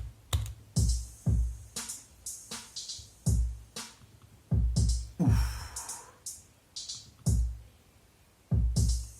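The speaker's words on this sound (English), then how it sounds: "So this is my drum pattern." Rap beat drum pattern with punchy kicks and sharp snare or clap hits repeating in a steady groove, loud and isolated with short gaps between hits.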